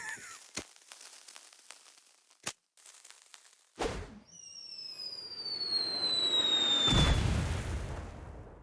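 In South Park: The Stick of Truth, a pyro bomb fire attack sets off scattered pops and cracks, a whistling, fizzing streak and then a swelling fiery roar and boom. It is loud and has no talk over it.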